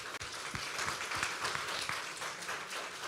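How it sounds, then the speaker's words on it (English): An audience at a conference applauds a speaker, producing dense, steady clapping that holds at an even level for a few seconds, fairly distant and soft. "So an applause for To."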